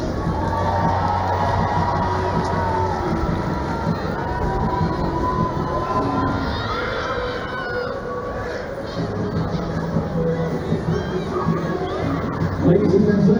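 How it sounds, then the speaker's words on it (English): A large stadium crowd cheers and shouts at a Scotland v Wales women's rugby match, with children's high voices in the mix, a sustained roar that swells again near the end. "a cheer for our Captain Minis."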